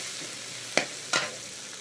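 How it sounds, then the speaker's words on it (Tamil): Onions roughly sautéed in a pan for a greens dish, giving a soft steady sizzle with two short scraping stirs close by and no voices. "எல்லாம் சும்மா ரஃப்பாக வதக்கிக்கலாம்"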